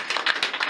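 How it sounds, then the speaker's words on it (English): Children in a classroom clap briefly, a quick burst of several close, sharp claps in an uneven rhythm. "Can you clap for Shemaya?"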